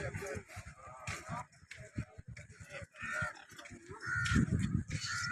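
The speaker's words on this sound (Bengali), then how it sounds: "কিছু পাখি।" Crows cawing on Maafushi island in the Maldives, a series of harsh calls close by over beach ambience, with a voice talking in between.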